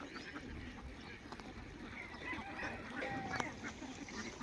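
Ducks at a farm shed beside the Chalan Beel wetland give faint, distant quacks and honks over steady outdoor background noise. The ducks are resting there after feeding, and a voice talks softly in the background.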